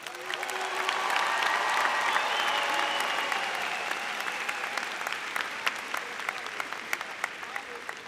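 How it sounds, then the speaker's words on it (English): Applause from parents in a large crowd at a high school graduation ceremony, thick sustained clapping with some cheers and murmured voices, swelling early and then easing slightly over several seconds. "Round of applause, parents."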